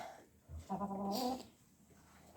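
A hen clucks once in a short, quiet burst against faint outdoor background at a dacha on a Saturday.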